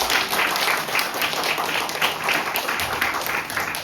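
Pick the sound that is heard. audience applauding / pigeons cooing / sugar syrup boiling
audience applauding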